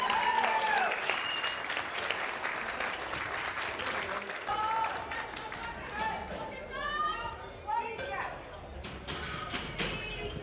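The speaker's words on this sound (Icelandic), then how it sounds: "Gefum honum gott klapp, flott lifta." Audience applause at a junior Nordic powerlifting championship after a good lift, sustained clapping with crowd noise and some chatter throughout, moderately loud.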